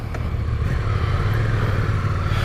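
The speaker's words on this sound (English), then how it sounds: "So this is my first ride on a 2023 Suzuki GSX-8S." A 2023 Suzuki GSX-8S motorcycle pulls away, its engine a steady low droning rumble close by with wind noise, and no voices.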